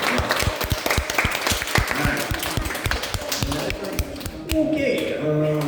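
An audience at a live animal show claps along in a loose rhythm of sharp, close hand claps, mixed with a presenter talking over it and brief crowd reactions.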